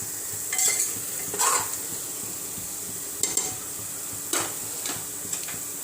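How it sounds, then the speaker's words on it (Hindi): Onions browning in a pan for chicken bhuna, a constant bright sizzle close up with several spatula stirs and light scrapes against the metal pan. "तो प्याज हमारा हल्का ब्राउन हो गया है।"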